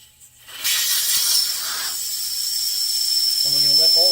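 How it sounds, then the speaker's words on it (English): A loud steady hiss of air rushes out of a tire after the valve core is pulled, starting abruptly and holding strong while a voice begins speaking near the end. "we're going to let all the air come out of the tire"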